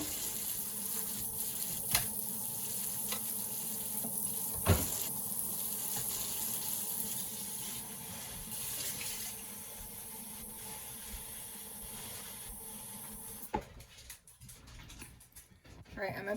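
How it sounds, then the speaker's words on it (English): A kitchen tap runs steadily while water is gathered for baking chicken with homemade stuffing, a soft continuous hiss with a few sharp knocks and clatters, before the flow cuts off near the end. "I'm going to put some water in here."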